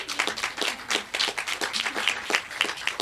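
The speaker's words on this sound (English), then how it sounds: "I want a little round of applause for our partner down the street, Amy Turk" Applause from a crowd at a downtown ribbon-cutting ceremony, steady overlapping clapping sustained for about three seconds at moderate loudness, with no one talking over it.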